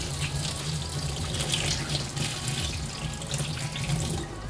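Water pours steadily through the strainer lid of a Cuisinart non-stick saucepan into a sink, a continuous close, even splashing rush lasting throughout.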